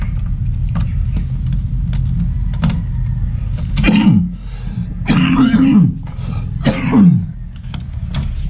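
A person coughs a few times in harsh bursts against a steady low motor rumble from a nearby vehicle, during house flooring work.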